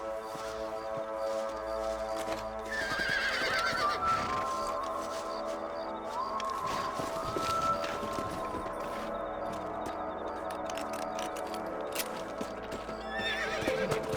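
Horses whinny repeatedly over a steady bed of hoof clip-clops in Red Dead Redemption, with game-like ambient sound and no talking.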